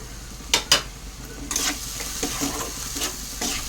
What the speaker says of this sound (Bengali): টমেটো কুচিটা দিয়ে ভালো করে আমি কষিয়ে নেব যতক্ষণ মশলাটা সুন্দরভাবে কষানো না হচ্ছে।